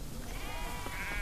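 Sheep bleating in a herd on open ranch land grazing knapweed, a drawn-out wavering bleat close by over steady outdoor background noise.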